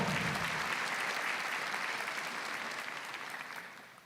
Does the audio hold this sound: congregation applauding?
yes